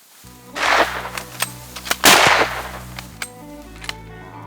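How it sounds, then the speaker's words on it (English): Gunshots fired at a buffalo during a plains game hunt in South Africa: two sharp, loud reports about a second and a half apart, each with a short echoing tail, over steady low engine-like hum and brief clicks. "Shoot him again."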